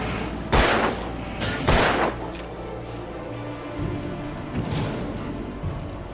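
Gunshots in the video game Alan Wake ring out in two loud, sharp bursts near the start, followed by fainter shots and rumbling combat noise.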